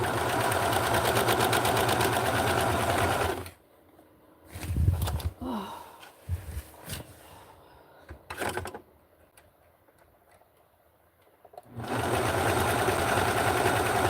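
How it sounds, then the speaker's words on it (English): A serger stitches vintage 1960s barkcloth, giving a loud, fast mechanical whir that runs for a few seconds. After a stretch of quiet handling thumps and rustles, the same steady whir starts again. "And I'm going to use the serger right now."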